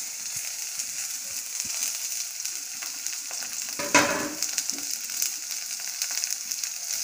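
Garlic, green chilli, ginger and neem leaves fry in oil for mango pickle, giving a steady close sizzle with occasional stirring scrapes and one sharper clatter midway.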